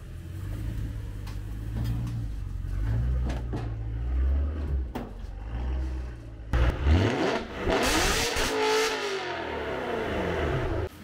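A BMW M3 engine idles with a low, uneven rumble, then revs hard, the pitch sweeping up and falling back down before settling again.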